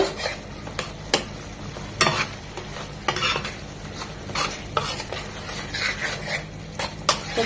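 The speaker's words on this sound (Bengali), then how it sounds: "ভালোভাবে আরেকটু নেড়ে চেড়ে মিশিয়ে নেব" Fish curry masala with tomatoes being stirred and mixed in a pan, scraping and clinking steadily over a soft background sizzle, with sharper spoon knocks against the pan every second or so.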